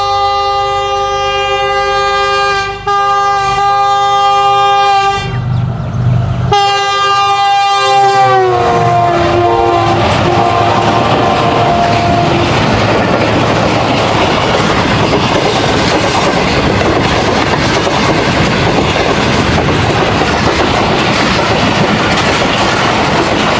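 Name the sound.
high speed train passing through Jungshahi station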